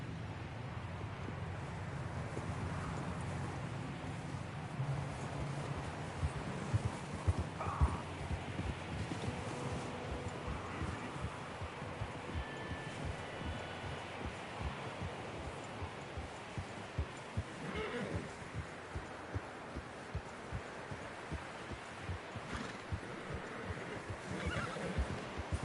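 Horses in Red Dead Redemption 2 whinny and neigh over the soft clip-clop of hooves, with faint wind in the background of the game.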